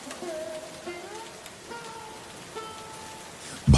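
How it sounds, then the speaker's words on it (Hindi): Steady rain falls across the whole stretch, a soft broadband wash with faint tonal music or sounds beneath it and a sudden thump at the very end. "बारिश तो धीरे हो जाने दो।"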